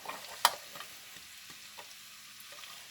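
Fuji apples, sweet onions and hot sausage fry in a pan while being mixed, giving a faint, quiet sizzle with one sharp clatter early on and a few soft stirring scrapes.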